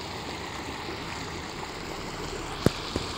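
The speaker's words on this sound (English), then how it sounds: "Check out this dirty ass and, if I'm being honest, a little bit funky river." A dirty, murky river flows steadily as a soft, continuous wash of water, fairly quiet and even, with a couple of brief sharp clicks near the end.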